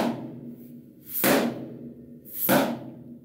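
A drum struck hard twice, each blow a sharp loud crack with a quick decaying ring, spaced about a second and a quarter apart, heard alone and close.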